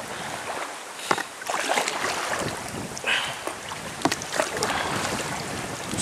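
Gusty wind buffets the microphone on the River Stour near Stratford St Mary during a canoe trip, a constant rushing roar with sharper gusts and occasional small knocks, and no voices.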